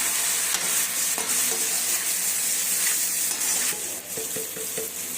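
Steady sizzling of chicken with chili powder frying in a pan, with a spoon scraping and stirring through it in short, irregular strokes.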